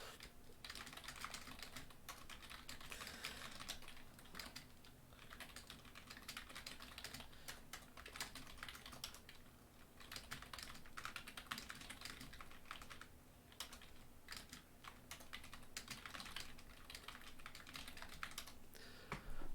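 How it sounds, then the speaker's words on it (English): Rapid, continuous typing on a computer keyboard fills the whole stretch, with dense clicking keystrokes over a steady low hum from a quiet online class session. "I can type them down."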